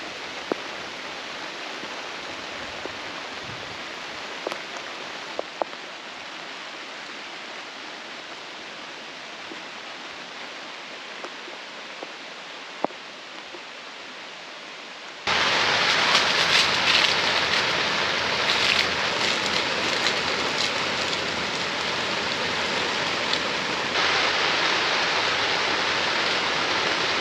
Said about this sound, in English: Y'all can hear that the rain is pretty heavy right now.